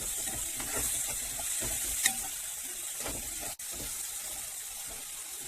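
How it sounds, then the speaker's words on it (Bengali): Turmeric and sugar being stirred together in a pan for chira poha, a soft steady hiss and sizzle with a few light scrapes of the spoon, close and continuous with no voices. "এবারে আমি খুব ভালো করে মিশিয়ে নেব।"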